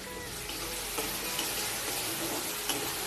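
Kashmiri red chili powder and spices being stirred in a hot pan for an egg dish, a steady broadband sizzle with a few soft scraping clicks of the spoon, close and continuous for about three seconds.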